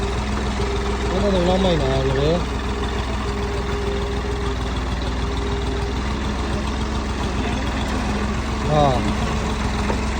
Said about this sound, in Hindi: ये ट्रैक्टर अपना निकालने लगा।